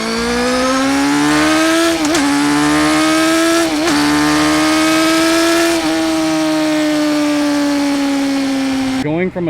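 A 2005 Suzuki GSX-R 600 sport bike cruising on the road, its loud, close engine drone holding steady with brief dips and rises in pitch at a few shifts or throttle changes, and wind noise throughout.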